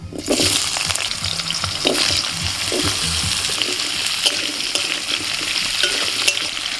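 Potatoes sizzle in hot mustard oil with nigella seeds, a dense, steady frying hiss close by, with scraping stirs and clicks of a spoon against the pan, no voices.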